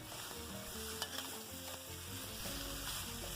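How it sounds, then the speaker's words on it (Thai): Water spinach sizzles steadily in a wok over high heat, with occasional light scrapes and clinks of a stirring utensil; no voices. "ผัดผักบุ้งไฟแดง เราต้องผัดด้วยไฟที่แรงๆนะคะ"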